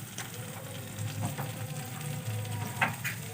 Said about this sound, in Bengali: ভালো করে ফ্রাই করব।